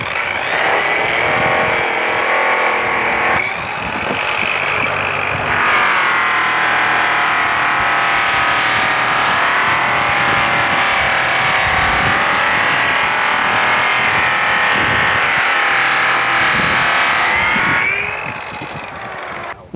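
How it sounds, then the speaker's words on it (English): A stitched sisal buffing wheel with Black Magic cutting compound polishes a stainless steel vise, a loud continuous motor drone with rough friction rasp that shifts as pressure changes, running nearly twenty seconds before spinning down. "polish that steel vise right up"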